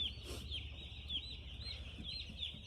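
Broiler chickens in a fenced shed in winter keep up a steady, dense chorus of high peeping and clucking, close and continuous, over a low background hum.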